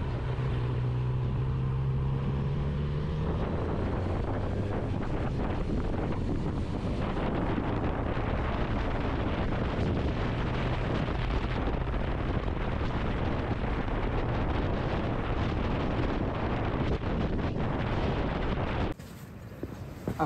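Steady, heavy wind roar buffeting the rider on a Honda CB1000R Black Edition motorcycle fitted with a Powerbronze screen, with engine tones rising through gears early on, then abruptly cutting out near the end.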